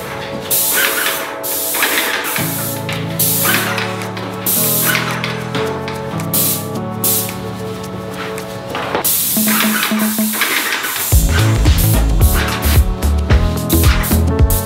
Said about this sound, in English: I started spraying on the dark green paint